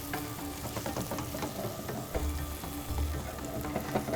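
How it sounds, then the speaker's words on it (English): Tomatoes and ginger fry in a pan for anda bhurji, a steady close sizzle with soft scraping and pressing of a spatula, continuous throughout with no talk. "The ginger gets a chance to fry inside and just press it down back again."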